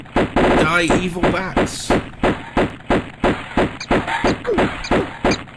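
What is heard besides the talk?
gunshots from the video game Tomb Raider (Sega Saturn)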